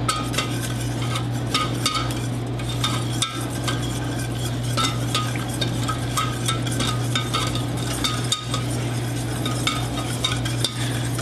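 Butter pieces mixed by hand into chocolate almond cake batter, a steady soft stirring and scraping against the bowl with light clinks over a constant low hum.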